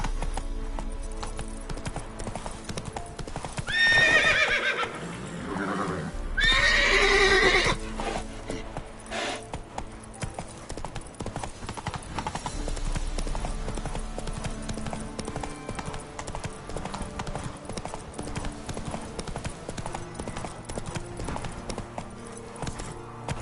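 Roach the horse in The Witcher 3 gallops with a steady, rapid clip-clop of hooves. Loud whinnies and snorts come early on, and the galloping rhythm runs on through to the end.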